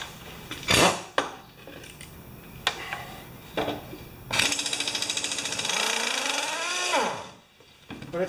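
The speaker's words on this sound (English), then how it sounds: "Now I'm going to use my air tool, but it's only on a quarter inch line" A pneumatic air tool on a quarter-inch air line works at a mower blade bolt on a Craftsman 6HP mower, with clanks and metallic knocks, then a rapid rattling burst that whirs down, fairly close and loud.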